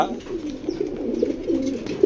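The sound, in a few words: pigeons cooing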